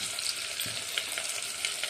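Vegetables such as potato frying in a pan with onions for a ghee vegetable pulao, a steady close sizzle with soft crackles and a few stirring scrapes.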